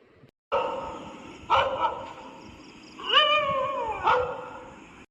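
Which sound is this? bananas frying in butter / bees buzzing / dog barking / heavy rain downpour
dog barking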